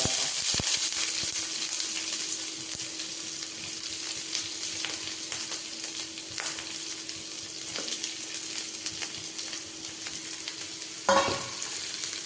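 Sliced onions sauté in a pan for masala bonda, a steady loud sizzle holding throughout with a faint stir or clatter near the end and no talking.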